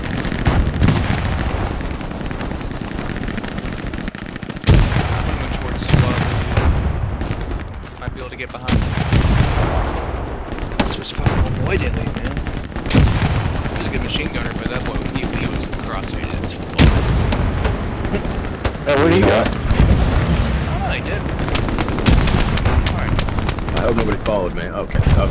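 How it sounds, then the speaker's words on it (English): Dense gunfire fills a World War II battle around Sainte-Mère-Église in the shooter game Hell Let Loose: bursts of machine-gun and rifle fire, some nearby and some distant, with heavy booms, while players talk over the shooting. "They're firing a lot of bullets down here."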